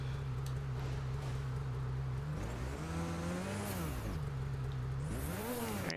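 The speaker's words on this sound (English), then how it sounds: "lower the volume on the engine noise again" A car engine in a sledding video game drones steadily, then its pitch swoops up and down through repeated revs and shifts, loud and continuous with no talking.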